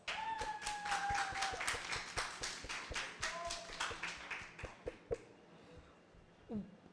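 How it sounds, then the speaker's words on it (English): A student audience claps for an election candidate at a university speech and debate session, a burst of dense applause that thins into scattered claps and fades out with a few faint voices. "Let's give him a warm round of applause"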